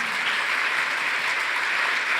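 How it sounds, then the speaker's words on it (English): An audience at a women's workforce panel breaks into applause, a dense, even clatter of many hands that holds steady and fairly loud throughout, with no voices over it. "Can we give these ladies a round of applause for sharing with us?"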